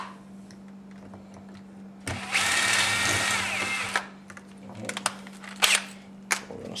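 A power drill whirs loudly for about two seconds, then stops, followed by scattered clicks and handling knocks.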